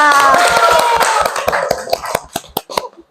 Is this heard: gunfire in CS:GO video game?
no